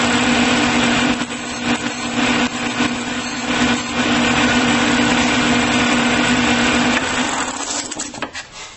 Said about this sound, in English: And just grind the top off.